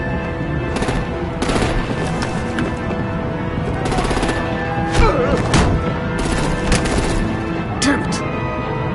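Rapid gunfire and heavy artillery blasts in the Batman: The Enemy Within video game, dense bursts of shots and booms rattling continuously at close range.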